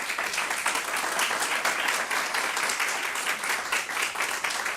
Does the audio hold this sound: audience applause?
yes